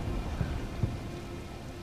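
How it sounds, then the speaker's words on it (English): Rain falls steadily in the video game Elden Ring, in the Liurnia of the Lakes region, a soft continuous hiss with a couple of faint low thumps and no voices. "look at the rain"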